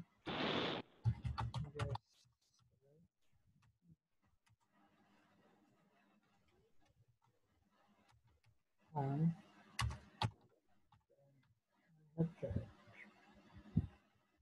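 Computer keyboard typing comes in short clattering bursts separated by quieter gaps while a message is written, with a voice speaking at times.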